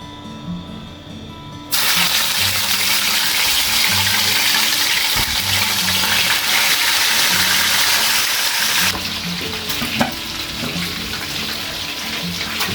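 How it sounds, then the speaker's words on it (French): Chicken pieces dropped into hot frying oil for riz poulet, a sudden loud, steady broadband sizzle that starts after a quiet moment and continues close up, easing slightly later with a few small pops. "Je vais passer à la friture."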